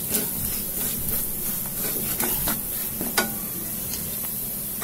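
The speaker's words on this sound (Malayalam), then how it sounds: "ഈ മസാല ഇനി എണ്ണയ്ക്കകത്ത് കൂടെ നല്ലതായിട്ട് മൂക്കണം." Fish curry masala frying in oil in a pan, a continuous close sizzle with scraping stirs and a sharper clack of the spoon partway through, no voices.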